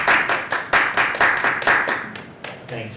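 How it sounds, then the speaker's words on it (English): An audience at a library poetry reading claps in a short burst of applause, sharp close hand claps that thin out and fade within a few seconds. "Applause, applause, applause."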